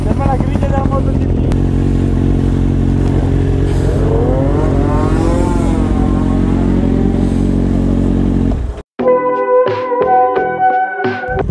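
A motorcycle at a biker gathering revs loud and close, with a deep rumbling idle, a rising whining rev, and then a sharp cutoff. Afterward come clattery, choppy engine bursts and people talking nearby.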